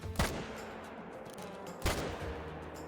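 Two loud M1 rifle gunshots in the hunting video game theHunter: Call of the Wild, one near the start and another a little under two seconds later, each a sharp crack with a short fading tail, no talking.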